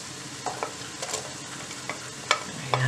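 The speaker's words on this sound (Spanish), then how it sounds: "así ya se va friendo un poco el chorizo" Chorizo and garlic frying in a pan, with a soft steady sizzle and scattered light clicks and scrapes of stirring, close and quiet with no talk.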